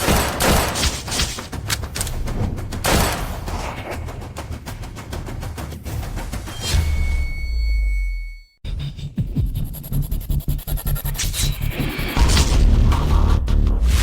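Gunfire in an Indonesian action drama as a sniper team opens fire: a loud, dense barrage of shots and booms, then a sudden cut to near silence before another burst of heavy firing swells up.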